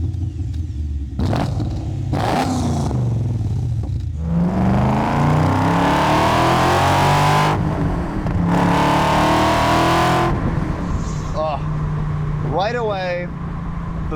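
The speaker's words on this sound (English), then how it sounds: "now it's time to hit the engine start button" BMW Z8 engine cranking and catching, then revved hard several times in rising and falling sweeps, loud and close, settling into a rough idle with a few brief blips at the end.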